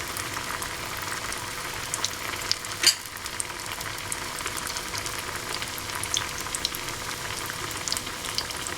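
Vegetable cutlets fry in hot oil in a pan, a continuous crackling sizzle with one brief clatter partway through.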